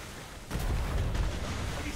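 Naval cannons fire from sailing ships in the game Atlas, a sudden heavy boom followed by rumbling bursts and sustained roaring blasts, loud and close, with no speech over it.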